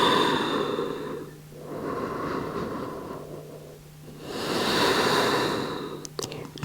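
Slow, calm breaths during a vinyasa yoga flow, each long inhale and exhale swelling and fading in a steady rhythm, close and soft, with no talking.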